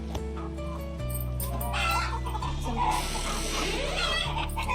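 Domestic chickens clucking outdoors on a Maharashtrian home farm, several birds close by with repeated bursts of clucking over a steady low hum.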